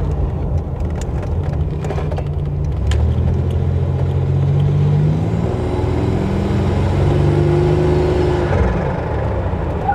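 A 1987 Buick Grand National with a broken exhaust manifold, its turbocharged engine droning steadily while a rising whine climbs in pitch as boost builds, loud and close, no speech.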